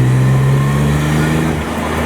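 A Nissan 300ZX twin-turbo engine roars loud and close at around 3,000 RPM, holding a steady, deep drone with a slight dip near the end. There is no clear speech over it.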